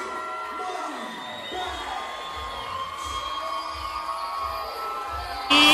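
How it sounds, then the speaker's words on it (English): A crowd cheers and whoops at a Major League Muay Thai fight event in Arizona as a fighter walks to the ring, the steady roar layered over entrance music with a pulsing low beat and a sudden loud swell at the end. "listen to the crowd. Listen to the fanfare."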